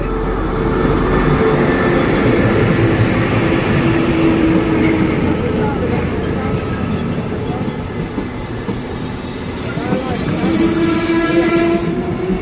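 A morning passenger train runs along a Thai railway, heard close by. There is a steady rumble of wheels and carriages, a long drawn horn blast and squealing wheels. Faint voices come through underneath.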